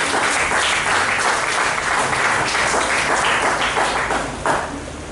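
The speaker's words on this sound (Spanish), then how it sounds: "Denle un aplauso a Cristo." A church congregation applauding, dense sustained clapping from many hands filling the room, tapering slightly near the end.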